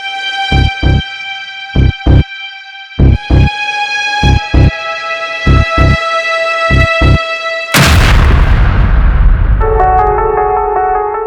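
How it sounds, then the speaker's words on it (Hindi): Rhythmic electronic tones pulse for several seconds, then a laptop explodes with a loud, sudden boom and rumbling decay, followed by a softer sustained tone. "धमाका"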